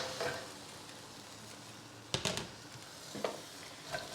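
Sautéing in a pan as green beans go in, a soft steady sizzle broken by a few sharp scraping stir strokes and clacks, close by, with no talking.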